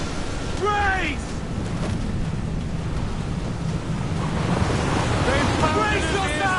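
Ocean waves surge and wash continuously around a sailing ship at sea in Assassin's Creed IV Black Flag, with steady wind roar and a waterspout's rushing churn, loud and unbroken throughout.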